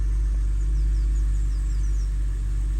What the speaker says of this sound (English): as you can see, it's idling fine